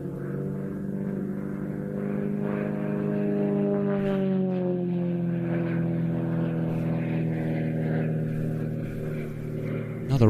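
Aerobatic display aircraft crossing in an opposition pass at the Royal International Air Tattoo, a steady loud droning engine whose pitch slowly falls as it passes, lasting about ten seconds.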